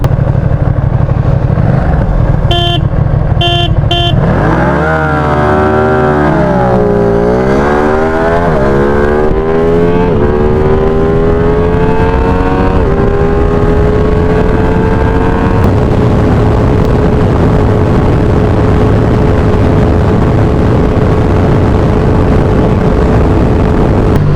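A Ducati Streetfighter V2 motorcycle engine revs hard while being ridden, its pitch sweeping up and down through gear changes before holding a loud, steady drone, with wind rush throughout.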